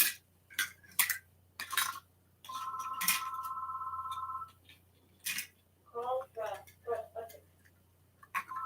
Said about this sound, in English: phone ringing in the background